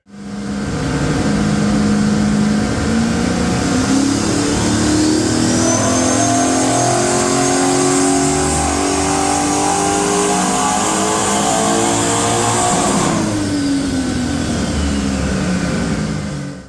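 A Ford XG ute engine revs hard on a dyno and steadily climbs in pitch for over ten seconds under load, then drops off sharply as the throttle closes, loud and close.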